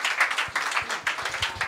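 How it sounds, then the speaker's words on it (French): Brief, sparse applause from a small audience at a tech meetup in Bordeaux, individual claps distinct and irregular, dying out quickly. "tonnerre d'applaudissements quand même"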